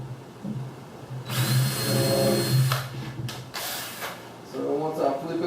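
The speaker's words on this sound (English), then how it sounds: "So I'm going to drill all the way through my marker screw there." A power drill whirs in several bursts, its motor rising and falling as it bites through wood, with brief pauses between.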